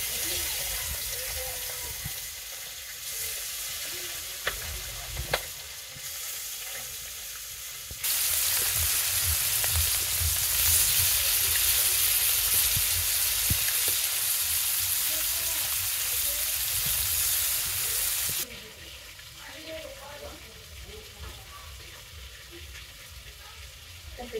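Small fresh fish dropped into hot oil in a pan, hissing into a loud, steady sizzle that fills the middle stretch before easing back to a gentler fry, with a voice talking at moments.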